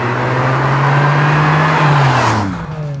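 A 2001 Ferrari 550 Barchetta engine drones loud and close at a steady, high pitch for over two seconds, then the tone drops and the sound fades as the car eases off or moves away.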